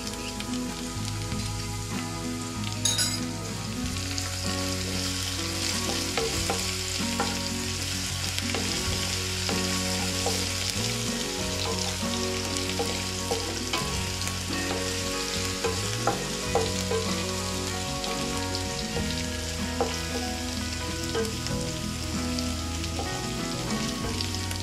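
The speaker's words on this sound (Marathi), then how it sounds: "आता आपण लसूण अद्रकची पेस्ट टाकून घेऊया।" Garlic-ginger paste hitting hot oil with browned onion in a pan for Maharashtrian shev bhaji, a steady loud sizzle and crackle throughout with occasional stirring scrapes, no talking.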